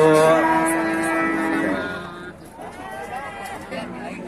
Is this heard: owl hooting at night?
no